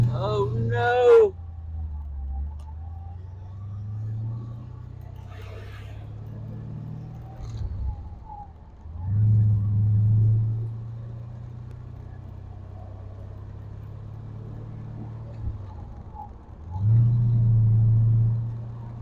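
A flood-damaged 1967 Corvette with an LS3 engine rumbles low at a stop sign, surging louder in a few brief throttle blips between steadier idling stretches, with a short voice near the start.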